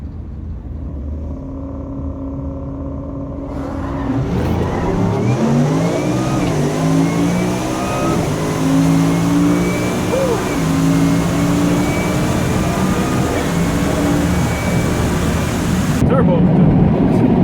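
Two 2018 vehicles race, a Whipple-supercharged Ford F-150 and a twin-turbo Mustang, engines rumbling at idle then roaring loud and continuous as they accelerate hard, with voices faintly beneath the noise.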